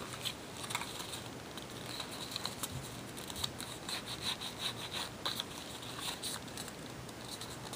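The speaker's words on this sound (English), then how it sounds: "I'm gonna be rubbing it so it kind of scores." Paper being rubbed and scored by hand while folding an envelope-style treat holder, a steady, close scratchy rasping that runs continuously with small repeated strokes.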